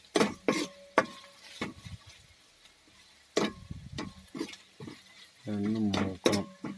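Beef is stirred in a pan over an open fire in a forest, giving a series of sharp scraping and clinking hits at an uneven rhythm, close by, with brief talk near the end.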